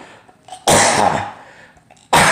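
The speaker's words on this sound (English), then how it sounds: "don't worry about the cough" A person coughs twice, sharp and close, with a harsh burst followed by a brief raspy tail and another loud cough at the end, separated by near silence.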